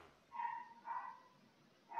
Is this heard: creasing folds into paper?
no